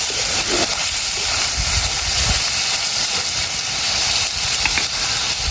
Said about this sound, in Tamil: அந்த மட்டன் எல்லாம் நல்லபடியாக பொரியட்டுமே